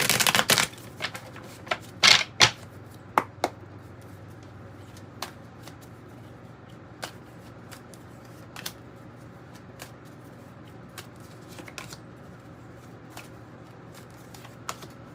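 Tarot cards are shuffled in a flurry of crisp riffles and snaps at the start, followed by scattered single card taps and slaps over a quiet background.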